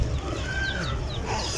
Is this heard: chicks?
yes